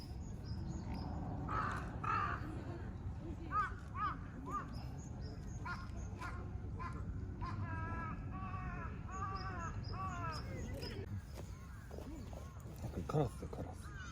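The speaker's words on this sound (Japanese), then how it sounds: "カラスだカラス。" Crows cawing in a park, several harsh calls repeated in short bursts over background noise, with people talking nearby throughout.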